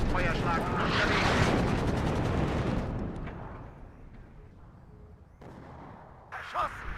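An artillery fire strike in WARNO, a Cold War real-time strategy game, lands as a loud rumbling barrage that fades over several seconds, followed by a quieter stretch and then a sharp late burst.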